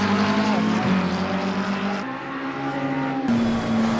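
Race car engine in the ACC sim racing game holding a loud, steady harmonic drone with gear-like pitch steps as the car bumps over curbing, continuous and close throughout.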